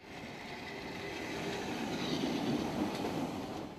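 A train rolls through Subotica railway station, a low rumble and steady clatter of wheels that swells gradually before easing off slightly, with no voices.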